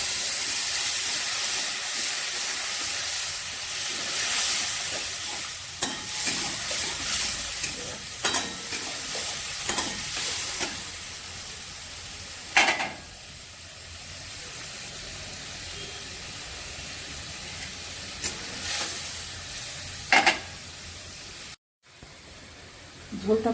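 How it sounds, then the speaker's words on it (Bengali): Spice masala for a fish curry frying in a pan while being stirred, with a steady close sizzle and hiss broken by occasional spoon scrapes and clatters; brief talk is faintly audible. "এবার আমি মশলাটা ভালো করে কষিয়ে নেব।"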